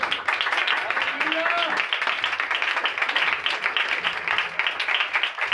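A church congregation claps together in welcome, a dense, sustained burst of applause with a voice briefly heard through it.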